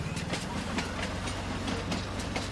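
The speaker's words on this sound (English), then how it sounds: "There's our train." A train rolls past in Farming Simulator 19, a rhythmic clickety-clack of wheels over rail joints above a low steady engine hum, close and continuous.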